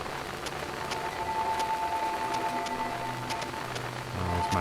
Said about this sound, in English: I hate this static noise, though.